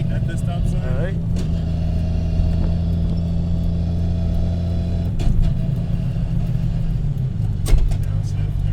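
Straight-piped 750HP Nissan R32 Skyline GT-R with a sequential gearbox, its loud, steady exhaust drone broken by sharp downshift blips near 1 and 5 seconds, with people talking over the engine throughout.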